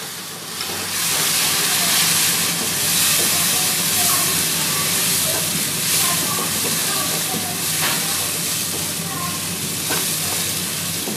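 Tomato puree with ground chilli and spices frying in a pan, a loud continuous hissing sizzle that starts abruptly and holds steady with faint crackles.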